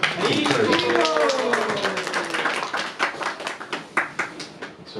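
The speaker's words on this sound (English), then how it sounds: "give her a round of applause" Applause for a speaker at a Sunday temple feast program begins under talking voices and thins into a handful of sparse, separate claps from a small gathering.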